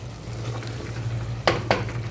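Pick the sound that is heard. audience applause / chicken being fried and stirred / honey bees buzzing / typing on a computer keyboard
chicken being fried and stirred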